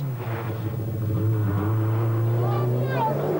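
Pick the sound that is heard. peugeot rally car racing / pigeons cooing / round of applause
peugeot rally car racing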